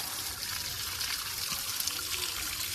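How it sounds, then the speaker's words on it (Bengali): Adenium plant roots being rinsed in water, with a steady, close trickling and sloshing of liquid throughout and no talking. "জলের মধ্যে রুটগুলোকে একটু ধুয়ে নিতে হবে।"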